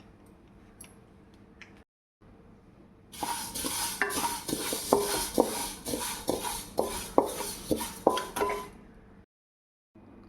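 Vermicelli roasting in a pan for semiya payasam, heard as about six seconds of dry sizzling with quick, irregular spatula scrapes and clicks up close, bracketed by quieter stretches and brief silences.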